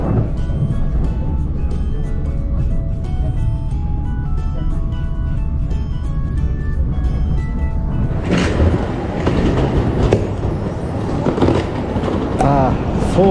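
Steady low rumble of a train running on rails in South Korea, arriving at Seoul Station, with faint rhythmic clatter, continuous and fairly loud throughout, with brighter metallic squeals toward the end.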